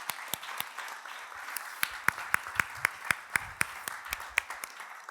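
Audience clapping at a journalism conference session, a fairly quiet crowd patter punctuated by sharp, distinct claps, a few listeners clapping loudly and steadily near the microphone.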